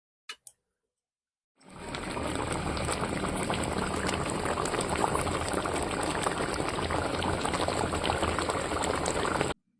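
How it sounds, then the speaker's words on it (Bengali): Pomfret fish curry boils vigorously in a pot: a couple of brief knocks, a short pause, then steady close bubbling that runs on evenly for about eight seconds. "মাছ দেওয়ার পরে ভালো করে ফুটিয়ে নিয়েছি"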